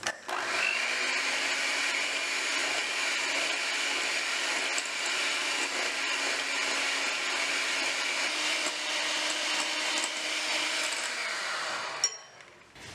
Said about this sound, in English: I add in my 1 cup of granulated sugar, and I take my whisk and whisk